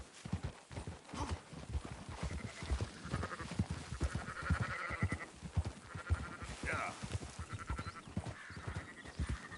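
Sheep bleat repeatedly amid a herd in Red Dead Redemption 2, mixed with steady horse hoof clip-clops while riding through open country; the calls are clear and fairly close.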